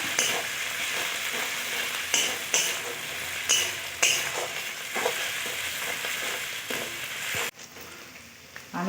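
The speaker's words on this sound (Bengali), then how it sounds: "আর এদিকে এগুলোকেও আমি ভালো করে ভেজে নেব" Ginger, garlic and onion frying in a pan for a mutton curry, a continuous close sizzle with a few stirring clinks, cutting off abruptly near the end.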